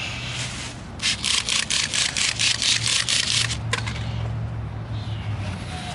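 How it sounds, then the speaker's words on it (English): A car brake rotor is scrubbed clean by hand, a quick series of about ten close rhythmic rubbing strokes over a low background hum. "let me clean this rotor off right quick"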